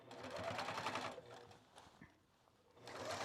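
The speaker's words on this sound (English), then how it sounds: "we're just going to sew all the way around to get it in place" A sewing machine runs a basting stitch on fabric, whirring up close in a steady run, easing off briefly and then picking up again, with no voices.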